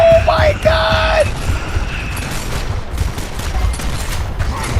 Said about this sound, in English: You hear them headshots?